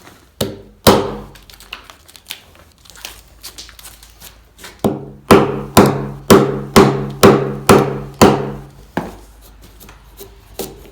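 A wooden firewood mallet strikes a timber frame joint: sharp, loud wooden blows, a few scattered hits and then a steady run of about eight evenly spaced strikes, heard close and alone.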